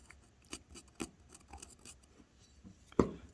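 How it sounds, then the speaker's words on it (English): A small metal dental tool scrapes and picks at a carved plaster block, giving quiet, irregular scratchy strokes with a sharper scrape near the end, close and alone. "I can take one of my dental tools and I can just start kind of scraping"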